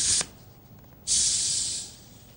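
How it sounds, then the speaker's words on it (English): A Coke bottle being opened releases two bursts of fizzy gas hiss, a short one followed by a longer one of under a second. Both are close and fairly loud, with no talking. "what's that gaseous sound? I'm opening a bottle of Coke."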